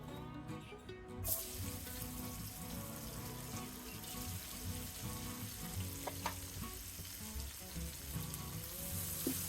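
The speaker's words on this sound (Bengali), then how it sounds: "পেঁয়াজ কুচিগুলোকে হালকা বাদামি করে ভেজে নেব।" About half a cup of chopped onions sizzles in oil in a pan over medium heat, the start of a tomato and tengra fish curry. The frying is a steady, faint crackle with soft stirring and no talk.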